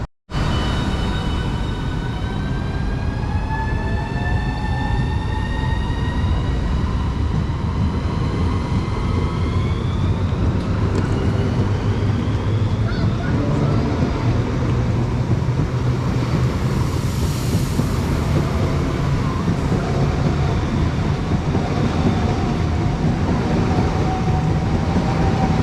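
Class 395 trains 395012 and 004 pull out of Walmer Station towards Ramsgate, their electric motors whining and rising in pitch as they speed up. A loud, steady rumble runs underneath throughout.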